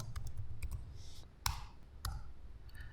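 A computer mouse clicks several times, sharp close taps spread across a few seconds in a quiet room, with no speech.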